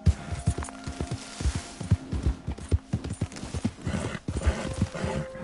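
A horse gallops in the video game Red Dead Redemption, its hooves beating in a rapid, rhythmic clip-clop close by, with a brief tone and some rustle partway through and no clear speech.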